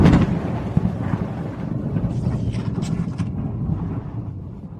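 A loud, rumbling thunder and lightning strike effect rolls through the whole moment, with a sharp crack near the start and a low, broad roar that sustains and slowly fades.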